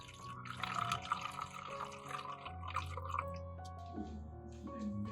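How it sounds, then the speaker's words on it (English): Beer trickles and splashes into the bottom of a bottle in a thin, close pour, with faint drips and gurgles that continue steadily for a few seconds. "Pour a little beer, about 3/5 cm,"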